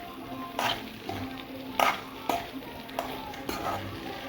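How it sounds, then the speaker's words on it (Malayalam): Sardine masala being stirred in a pan, with a low sizzle under several distinct scraping spoon strokes at irregular intervals, close and fairly clear, no talking. "ഈ മീന് ഇങ്ങനെ ഇളക്കിക്കൊണ്ടിരിക്കണം കുറച്ച്."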